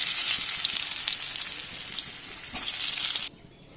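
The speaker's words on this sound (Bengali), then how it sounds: "এবার আমি আলুগুলোকে ভেজে নেব।" Potatoes frying in hot oil in a pan, a loud, dense crackling sizzle that carries on steadily and then cuts off abruptly near the end.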